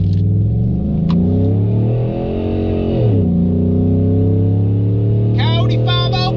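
A Ford F-150 with a 5.0L dual overhead cam V8 and an electric cutout exhaust rumbles loudly up close, its deep idle swelling into a rev and settling back, with brief voices near the end.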